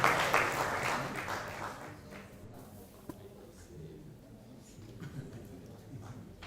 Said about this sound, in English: Yes, let's clap for these people.